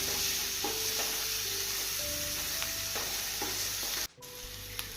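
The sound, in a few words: sautéing finely chopped onions with garlic and chillies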